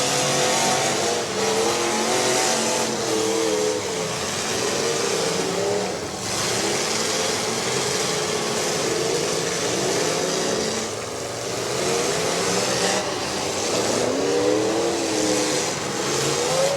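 Demolition derby cars at a county fair show, engines revving and roaring continuously at mid distance, rising and falling over a crowded, noisy arena wash.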